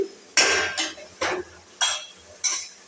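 Food cooking in a pot for a spicy tangra fish curry is stirred with a metal utensil, giving five sharp scraping clanks at a steady, unhurried pace against a quiet background.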